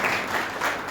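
An audience at a Jain temple sermon gathering claps in a brief, dense burst of steady applause.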